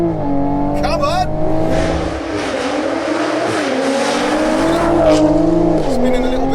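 Tuned 460 bhp stage 2 MKV Toyota Supra accelerating hard with a little wheelspin, its engine note climbing loudly through the gears with tyre noise, close and continuous, while someone shouts excitedly over it.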